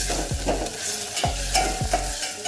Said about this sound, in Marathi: टाकलं टमाटर. हलवून मिक्स करून घेऊ